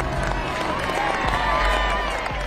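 Crowd gathered outside a hangar for the rollout of the B-2 bomber, a steady murmur of many voices with scattered claps and cheers, moderately distant and continuous.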